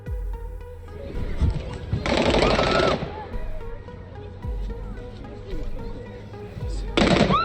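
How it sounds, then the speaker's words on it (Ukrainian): Bursts of rapid automatic rifle fire crackle in two loud volleys, separated by quieter moments with scattered sharp shots and background noise. "Стріляється з автомата."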